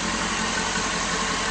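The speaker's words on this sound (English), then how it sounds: "The truck sounds great and it runs smooth." A 2011 Ford F-250 Super Duty truck engine idles close by with a steady, smooth, even rumble.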